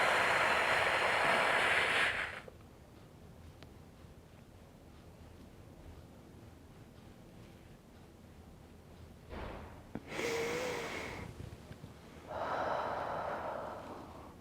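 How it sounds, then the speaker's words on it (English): Deep exhaled breaths through the mouth during a yoga exercise for diastasis recti, heard as a loud, long rushing exhale at the start followed by two shorter breath bursts later, with quiet in between. "So inhale, exhale, out through the mouth."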